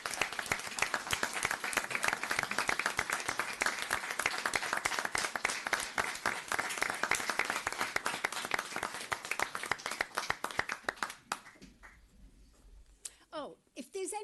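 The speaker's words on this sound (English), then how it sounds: "You deserve a round of applause" Applause for volunteers standing at a town board meeting: steady, dense clapping from a seated audience in a hall, sustained for about eleven seconds before thinning to a few scattered claps and quiet room noise.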